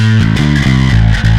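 Electric guitar played through a JACKAL MIDNIGHT distortion pedal with its clean blend switched off, giving a loud, dense, saturated tone with sustained chords changing every few tenths of a second, heard alone.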